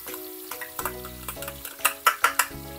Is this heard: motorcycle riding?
no